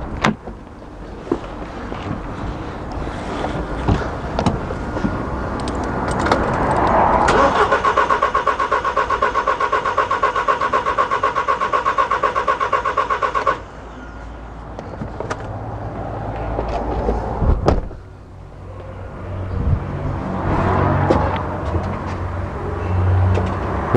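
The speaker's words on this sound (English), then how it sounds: "So I'll start the vehicle now and we'll see the difference." A Skoda Yeti with a 1.8 TFSI petrol engine (CDAA) that has a fuel pressure fault cranks and catches, then settles into a steady, close idle hum for several seconds before cutting off, with rustling afterwards.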